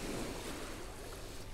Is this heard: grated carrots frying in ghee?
no